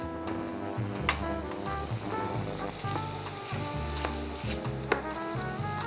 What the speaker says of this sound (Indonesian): Oke, kita taruh butter.